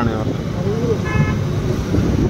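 Busy city traffic in Bhubaneswar, Odisha, with a steady roar of passing cars and motorcycles and a brief car horn toot, while someone talks over the street noise.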